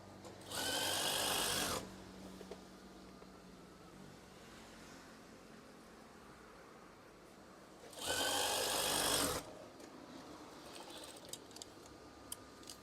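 A sewing machine stitches fabric for a curtain swag in two loud, buzzing bursts, each a bit over a second long. Quiet room noise fills the gap between them.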